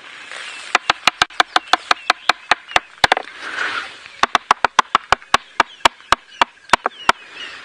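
A series of sharp, evenly spaced knocks on wood, rapid and percussive like a woodpecker drumming, with a brief pause midway before the knocking resumes.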